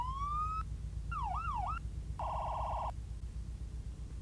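A video game police car's synthetic siren cycles through three patterns: a rising whoop, a fast wailing warble, then a rapid yelp, each about half a second.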